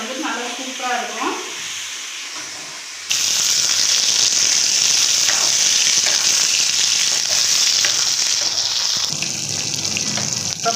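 Small brinjals fry in hot oil, starting with quieter cooking noise and then a loud, continuous sizzle and crackle that fills the rest of the scene, with no talk.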